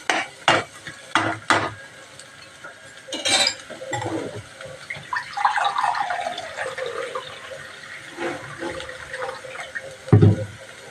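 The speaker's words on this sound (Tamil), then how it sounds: "இப்போ தண்ணி ஊற்றிக்கலாம்" Water pours into a metal pot of lentils for Mysore sambar with a steady splashing, amid clinks and scrapes of utensils, close up.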